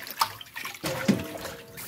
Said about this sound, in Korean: 그러면은 브로콜리를 깨끗이 씻어주겠습니다.